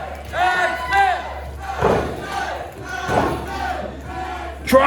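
A wrestling arena crowd at an EBW show roars and chants in loud, overlapping swells of shouting voices, rising and falling in waves every second or so.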